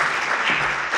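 A short burst of audience applause at a conference session on AI challenges and regulation, dense and even throughout with no voices.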